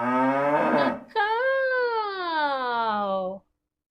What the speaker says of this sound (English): The cow goes